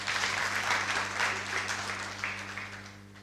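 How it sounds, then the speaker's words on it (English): Audience applause for President Ruto during a business masterclass, steady moderate clapping from a crowd with a low electrical hum underneath, gradually tapering off. "Hand clap for President Ruto."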